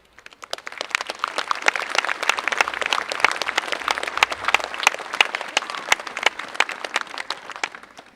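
An audience applauds guests arriving on stage at a Westport 1916 commemoration event, with dense, steady clapping that builds quickly and carries on without a break.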